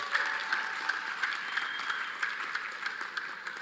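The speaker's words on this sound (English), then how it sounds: "Can we have a round of applause?" Audience applause at a climate-smart partnerships event in Zambia, steady dense clapping from a crowd at moderate distance, continuous throughout with no voices over it.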